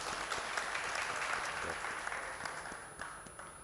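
Applause from a conference audience at the Aalmi Urdu Conference in Karachi welcoming guest Rashid Latif, a faint, distant wash of steady clapping with a few sharper claps, no speech over it.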